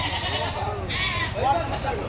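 Goats and lambs bleat at a busy goat market, short wavering calls rising over steady crowd noise and nearby people talking.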